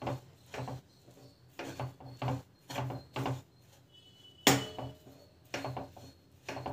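Flour batter stirred in a pan, a series of short scraping, rubbing strokes in an uneven rhythm, close and fairly quiet.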